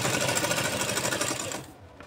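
A sewing machine runs a straight stitch on a palazzo pant pocket, a rapid, steady mechanical clatter close by for nearly two seconds before stopping abruptly.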